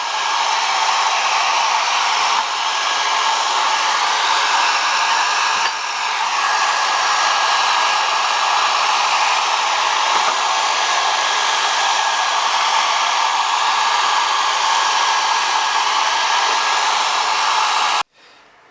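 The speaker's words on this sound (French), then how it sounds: "On utilise donc un sèche-cheveux" A hair dryer runs continuously at close range, a loud steady whirring blow with a faint whine, drying acetone from inside a tank, then abruptly switches off near the end.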